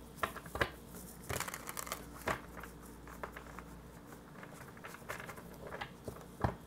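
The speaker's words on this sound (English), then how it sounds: "One more shuffle." Soft, quick riffles and pats of tarot cards being shuffled, in short irregular bursts with quiet gaps, fairly close and faint.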